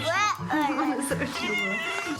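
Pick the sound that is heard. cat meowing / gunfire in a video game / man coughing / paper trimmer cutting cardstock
cat meowing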